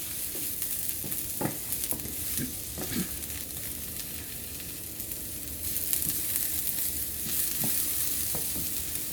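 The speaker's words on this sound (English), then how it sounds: "My broccoli, and allow it to saute for a couple of minutes as well." Broccoli sautéing in a pan for vegan pad thai, a continuous close sizzle with occasional spatula scrapes and taps, heard alone without talk.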